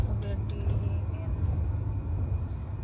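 A car cabin rumbles with steady low road and engine noise while being driven, with people talking inside over the drone.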